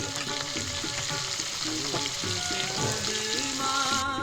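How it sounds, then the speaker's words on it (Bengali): Tengra fish frying in hot oil in a wok, a steady close sizzle throughout with a few light scrapes and clinks, while faint music plays underneath. "এইভাবে আমি সমস্ত মাছগুলো ভেজে নেব।"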